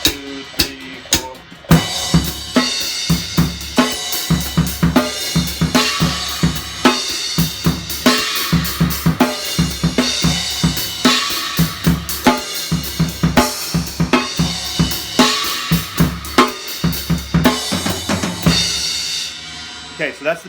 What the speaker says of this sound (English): Every time you hit a snare drum, you're gonna hit on a cymbal.